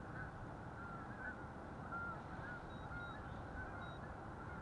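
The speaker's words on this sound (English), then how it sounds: "you can hear the geese. Listen to them." Distant geese honk intermittently over a steady outdoor background hiss at a fishing spot, faint calls scattered across several seconds with no talking.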